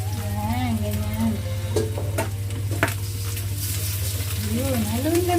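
Eggplant and sliced pork stir-fry in a pan, with a steady close sizzle under a low constant hum, occasional utensil scrapes and a few soft voice-like tones.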